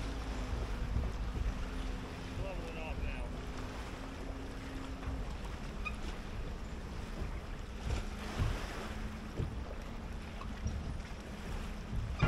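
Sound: boat motoring on choppy water

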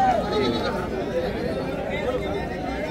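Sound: goats bleating at a goat market

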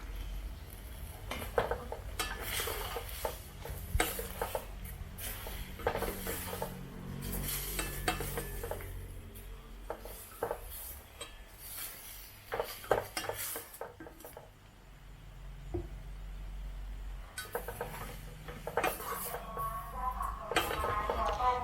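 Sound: stir-frying zucchini with egg and minced chicken in pan

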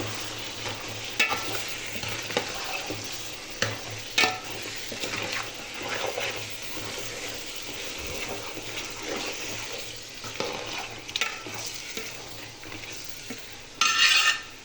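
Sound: stirring meat in a pan for biryani

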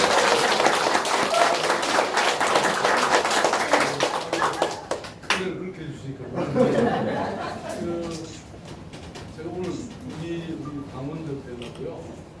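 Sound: applause welcoming the mayor

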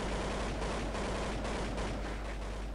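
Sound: gunfire in Counter-Strike video game

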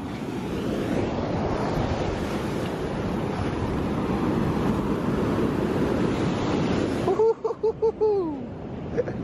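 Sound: ocean waves crashing

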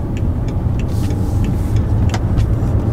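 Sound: BMW 550i V8 sedan accelerating

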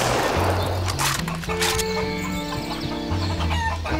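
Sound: chickens clucking in video game Doom mod VietDoom

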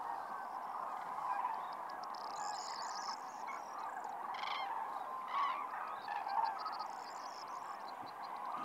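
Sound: flock of cranes and geese calling from the water

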